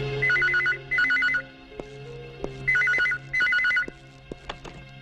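A telephone rings in bursts of warbling electronic tones, two rings, a pause, then two more, loud and close, with a few light clicks and knocks between them and no speech.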